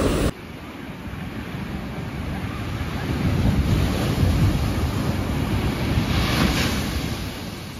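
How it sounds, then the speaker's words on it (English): Ocean waves crash and wash onto a soft sandy beach in Bali, a loud, continuous roar of surf with heavy wind buffeting the microphone and no voices. "we're kind of like timing the waves because the waves are actually mad here"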